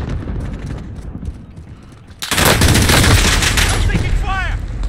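Call of Duty video game gunfire erupts after a quieter stretch, a loud close burst of rapid shots that keeps rattling on, with whizzing, ricochet-like whines near the end.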